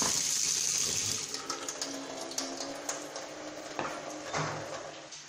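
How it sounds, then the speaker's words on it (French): A small amount of water poured for a Moroccan chicken tajine: a quiet, steady trickle and splash at close range, with a few faint clinks, and no talking. "On met un peu d'eau, comme ça c'est bon."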